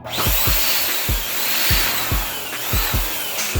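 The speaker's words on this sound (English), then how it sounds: "And that's to just blow the balloons up." A balloon for a party balloon column is pumped up with a hand inflator, giving a steady series of rhythmic whooshing puffs, about nine strokes close up with airy hiss.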